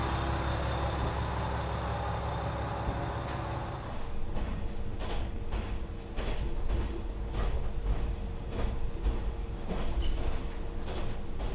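A train rolls along the rails near Hirako Station with a steady rumble and a regular series of clacks over track joints, no voices.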